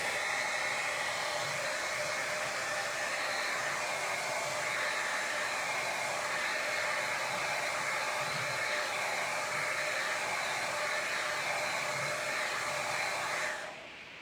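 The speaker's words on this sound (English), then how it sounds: "I'm gonna dry." A hair dryer blows steadily to dry paint on a cabinet during a makeover, giving a loud, constant rushing whir that runs for about fourteen seconds before cutting off abruptly.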